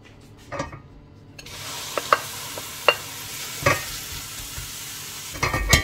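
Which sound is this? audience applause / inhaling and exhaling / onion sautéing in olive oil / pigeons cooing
onion sautéing in olive oil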